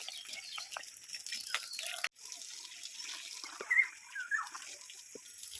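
Water is poured and spread over a patch of Indian pennywort leaves, a soft trickling splash with a few louder gushes and drips, fairly close and without speech.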